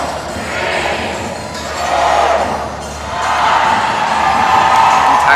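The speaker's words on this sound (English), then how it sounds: "Crowd screaming every single rep" Crowd screaming and cheering at a workout competition, loud continuous roar that swells in waves with each rep, dense and close with no clear individual voices.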